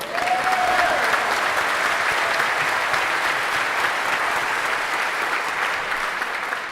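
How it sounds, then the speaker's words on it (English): Audience applause for the Kroks, a Yale a cappella group, a loud, even wash of clapping from a large crowd that holds steady throughout with a brief whistle near the start. "let's give them a round of applause for even remembering most of the words"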